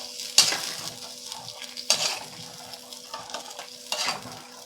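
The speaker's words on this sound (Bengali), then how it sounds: "এখানে আমি হাফ বাটির মতন জল দিয়ে দিচ্ছি। দিয়ে একটু ভালো করে নেড়ে নেব।" Fish curry being stirred in a pan right after half a bowl of water is added, with mango and fried shol fish on the way; three distinct scraping stir bursts sound close, separated by quiet gaps with soft sizzling.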